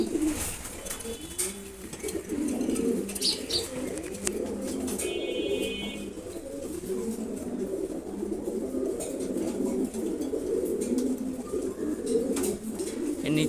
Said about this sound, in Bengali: খুবই ভালো একটা মাদি কবুতর,